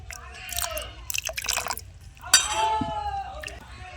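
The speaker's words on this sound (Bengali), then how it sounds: "আর একটু জল দিয়ে দিচ্ছি" Water is poured into a batter for tomato chops, giving soft splashes and trickles with a few light clinks of a container, close up and fairly quiet.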